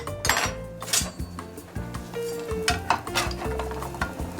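An egg fries in oil in a pan on a food truck griddle, giving a steady close sizzle with scattered utensil clinks and scrapes throughout, with no speech.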